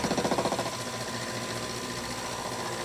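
A milling cutter machining a Stuart S50 model steam engine's steam chest cover: a steady, loud buzzing chatter of rapid regular cuts, starting with a few pulsing strikes and then settling into a continuous grinding whine.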